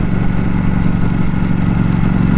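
A motorcycle being ridden on a sunny road drones with a loud, steady low engine rumble, close and continuous, with no talk over it.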